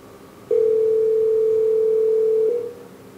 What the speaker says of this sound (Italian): Sta squillando il telefono.